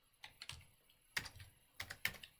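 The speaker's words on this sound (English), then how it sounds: "I'll just type dollar changes." Keys tapped on a computer keyboard while entering text into an Excel worksheet: a short run of close, crisp clicks in uneven bursts, with no talking.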